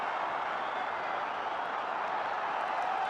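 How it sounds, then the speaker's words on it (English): Cricket spectators at an India versus South Africa Test match cheer and clap together, forming a continuous, even wash of applause that holds level at a loud volume. "And a big cheer from the crowd."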